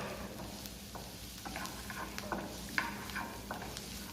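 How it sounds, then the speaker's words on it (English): Carrot cubes sautéing in a pan for chicken fricassee, a quiet continuous sizzle broken by light spatula taps and scrapes at irregular intervals, without any voices. "Now saute that carrot again properly."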